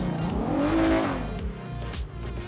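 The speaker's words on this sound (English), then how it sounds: "So I'll give that one a little rev." A Ford F1 Deluxe 4x4 with a swapped EcoBoost V6 revving in the RedlineRP video game, a brief loud rev that climbs and then falls back.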